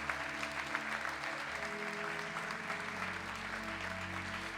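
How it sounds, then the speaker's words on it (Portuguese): A church congregation applauding in gratitude during a worship service, steady sustained clapping filling the room at moderate level, with organ or keyboard tones held underneath throughout. "a você oferecer ao Senhor um aplauso de gratidão a Ele"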